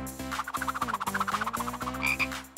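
A frog croaks loudly and close by in a rapid, rhythmic series of throaty pulses, with a brighter chirp near the end.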